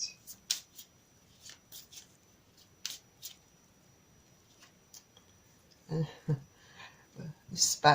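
Tarot cards being shuffled and drawn, soft papery flicks and slides scattered across the span, with a denser flurry of card handling near the end, close and quiet.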